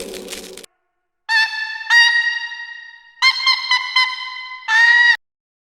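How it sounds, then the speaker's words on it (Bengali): A cartoon duckling gives a run of bright, nasal quacks in short bursts, some doubled, close and clear with silent gaps between them. "একটি ছানা প্যাক প্যাক করে ডাকছে।"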